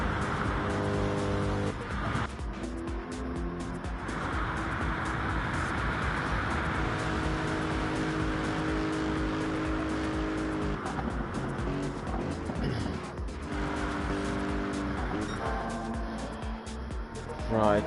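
Race cars in a Le Mans 24-hour endurance racing video game, several engines revving and shifting through gears, with tire squeal and repeated passing roars, loud and continuous.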